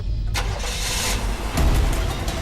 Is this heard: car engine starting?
yes